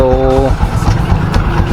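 A Rossi TC150 motorcycle engine idles just after a tune-up, its low, even putter running close and loud beneath someone speaking.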